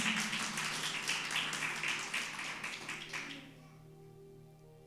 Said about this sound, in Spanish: Denle un aplauso a Jesús, el Hijo de Dios.